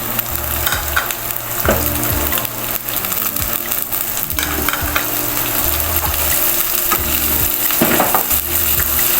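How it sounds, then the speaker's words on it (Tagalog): Tomatoes and onions sautéing in a pan for a home-cooked pochero give a steady, loud sizzle, broken by repeated scraping and knocking from stirring. "Kailangan igisa mabuti ang kamatis."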